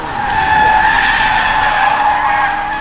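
Car tires squeal in a loud, sustained skid under hard braking in the Crash Time driving game, a bright tonal screech lasting a few seconds that fades slightly at the end.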